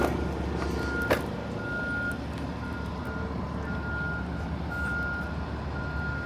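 An articulated accordion bus reverses on a congested city street near Independence Hall in Philadelphia, its steady reversing beeps repeating at regular intervals over a constant low traffic and engine rumble.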